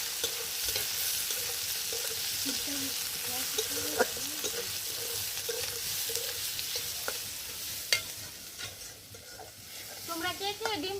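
Onions sizzling in hot oil with bay leaf, cardamom, cinnamon, clove and pepper while a spoon stirs the pan, a steady quiet fry broken by scraping strokes and occasional faint voices.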